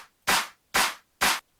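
Three short, sharp electronic drop claps in a steady rhythm, each one clipped tight by a long kick side chain so it cuts off abruptly, loud and alone in the mix.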